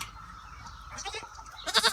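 Two young male goats in a farm pen bleat close by, short wavering cries coming in rapid bursts near the end over a quiet background.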